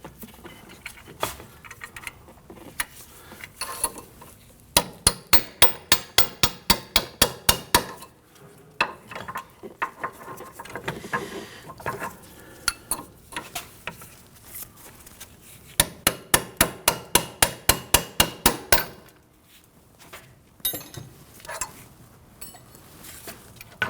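Metal hammer blows drive a bolt out of a 2005-2010 Chrysler 300 rear suspension knuckle, coming in rapid repeated bursts of sharp, close, ringing strikes separated by pauses, with no talking.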